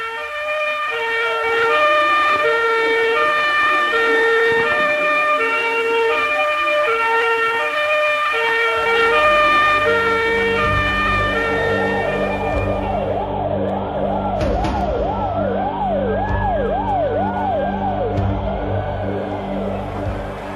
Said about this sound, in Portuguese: A chegada do carro dos bombeiros